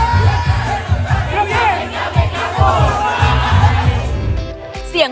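A large group of soldiers at a military camp sings loudly together in unison, a dense massed chorus with a steady, rhythmic pulse that carries through to the end.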